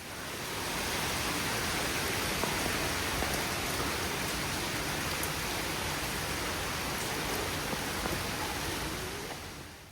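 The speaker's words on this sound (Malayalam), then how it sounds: "അത് കഴിഞ്ഞപ്പോൾ അതാ ഉഗ്രൻ മഴ." Heavy rain pouring down in Bangalore, a dense, unbroken hiss of drops that holds steady for the whole stretch, with no voices.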